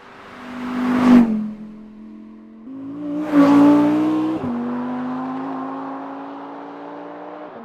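A 2022 Audi R8 RWD with a V10 engine revs hard twice in quick blips, then settles into a sustained high-pitched drone, close and loud with no voices.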